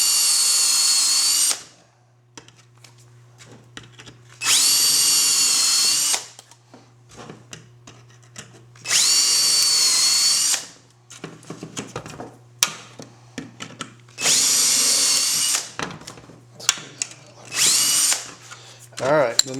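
A power drill bores holes in the dash panel bezel of a 1965–66 Ford Mustang, including a 5/16 hole, in several bursts of about two seconds each, separated by quieter pauses with low hum and handling noises.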